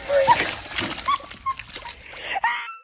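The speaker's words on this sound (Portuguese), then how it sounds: "Aqui as imagens de Isabela Contrada, de um cão que encontrou o paraíso em um grande lamaçal." A dog romps in a large mud puddle, with wet splashes and sloshing close by, broken by short whimpers and high yelps amid brief background voices.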